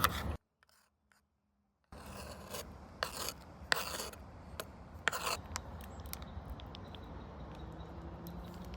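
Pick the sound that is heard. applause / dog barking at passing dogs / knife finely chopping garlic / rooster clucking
knife finely chopping garlic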